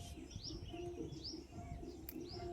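Soft morning bird chirps and whistles repeating over a quiet village background in Murud, with a low dove-like cooing, faint and a little distant, with no voices.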